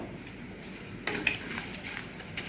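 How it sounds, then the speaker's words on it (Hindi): Cumin seeds land in hot oil for Mathura halwai-style aloo sabzi, giving a quiet, steady frying hiss with a few soft crackles and a light stir of a spoon in the pot. "हम इसमें डालेंगे जीरा"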